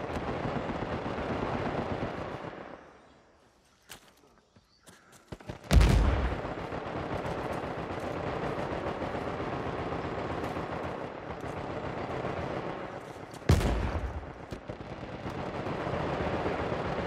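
Gunfire in the video game Uncharted 4, loud sustained bursts of shooting that drop away into a brief lull before sharp blasts bring the dense firing back.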